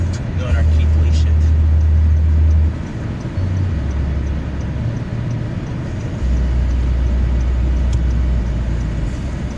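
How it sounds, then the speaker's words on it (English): Road traffic from inside a car, a steady low engine and road rumble in the cabin, with people talking over it. "Traffic's always this bad"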